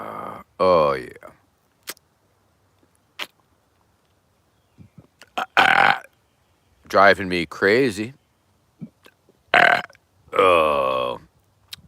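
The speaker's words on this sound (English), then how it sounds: "Oh, I'm just gonna belch here for a little bit. Release some gases." A man lets out several loud, drawn-out belches, deliberately releasing gas, with bits of close-up talk in between.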